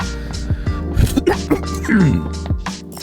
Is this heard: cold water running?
no